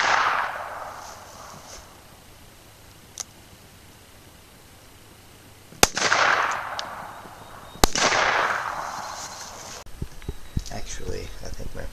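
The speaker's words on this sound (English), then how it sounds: "gonna shoot the 4-inch target out from under the tire with 357" .357 revolver shots outdoors at a rolling steel target on a hill, a couple of sharp cracks each followed by a long rumbling echo, with quieter background noise in between.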